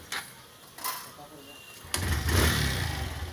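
A Honda Livo motorcycle engine, about six months old, cranks with a couple of short bursts, then catches and settles into a steady, close idle.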